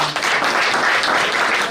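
A crowd at a Delhi oath-taking ceremony breaks into sustained, close, energetic clapping that fills the short stretch without pause.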